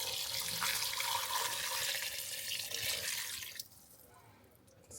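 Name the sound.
pouring gravy over neck tail stew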